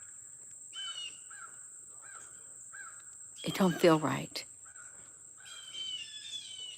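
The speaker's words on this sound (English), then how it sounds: "there's certain birds chirping, but it's not the normal birds that are chirping" Crows caw outdoors in a string of harsh, evenly spaced calls, with other birds calling and a constant high insect-like whine behind. Someone speaks briefly in the middle.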